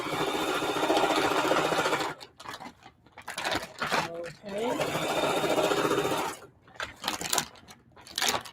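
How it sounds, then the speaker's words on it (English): A sewing machine stitching a feedbag tote runs in a steady loud whir for about two seconds, then again in longer bursts broken by pauses, with someone talking in between. "if you're sewing this and your machine skips a little, no worries."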